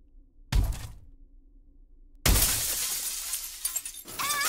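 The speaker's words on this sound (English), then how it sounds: "If I break the window, maybe I can escape." Window glass shatters in the horror video game 911 Prey, one sharp break after a short knock, then a second louder crash with tinkling shards trailing off, close and clear with no talk over it.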